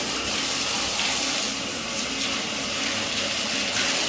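Steady water runs from a bathtub tap, a loud, even gushing hiss that carries on without a break and with no voices.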